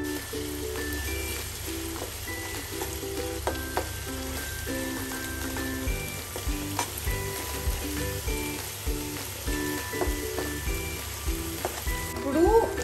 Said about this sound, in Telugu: ఈ జింజర్ గార్లిక్ పేస్ట్ కూడా ఫ్రై అయిపోయింది.